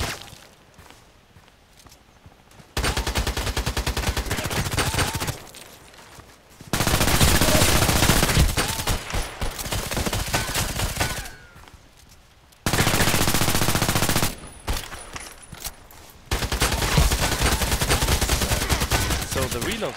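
SMG gunfire in Contract Wars from the Veresk and PDR-C, several long automatic bursts of rapid close shots separated by quieter gaps of movement and footsteps.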